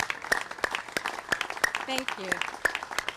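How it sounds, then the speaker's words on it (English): A crowd at a library groundbreaking ceremony gives a light round of applause with scattered hand claps, mixed in with a voice speaking over it. "I just want to give you a hand clap"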